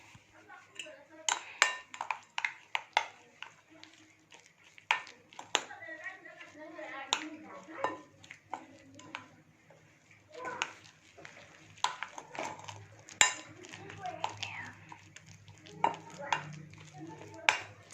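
A utensil stirs mashed banana with oat flour in a bowl, giving irregular clinks and soft scraping knocks at close range, with a person talking quietly over the stirring.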